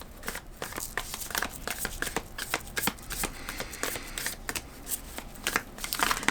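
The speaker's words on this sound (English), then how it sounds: "I'm going to pull more cards from the Archetypes." Oracle cards from an Archetypes deck are shuffled and pulled by hand, a busy stream of close, crisp card riffles and slaps with some crinkly rustling. The sound is fairly loud and continuous, with no talk.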